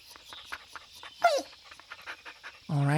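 A dog pants in short rhythmic breaths up close, with a brief whimper partway through and a louder burst at the end.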